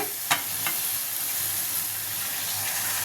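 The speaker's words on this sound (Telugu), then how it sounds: "ఇప్పుడు ఇందులోకి టమాటా క్యాప్సికమ్ క్యాబేజీ అన్నీ వేసుకొని కలుపుకోవాలి" Tomato, capsicum and cabbage are stirred into frying pav bhaji vegetables in a pan, with a steady close sizzle and a couple of sharp scraping clinks of the spoon near the start.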